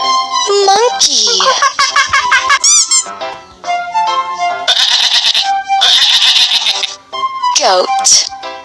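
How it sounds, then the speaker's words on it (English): A goat bleats in a short series of loud, quavering, harmonic-rich calls that overlap with other animal cries and squeaks from a children's alphabet-and-animals program. "Goat."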